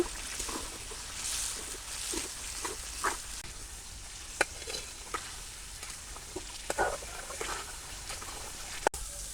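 Ground turmeric, chili and salt sautéed and stirred in a pan for an egg curry, a soft low sizzle broken by scattered scrapes and clicks of the spoon against the pan, no voices.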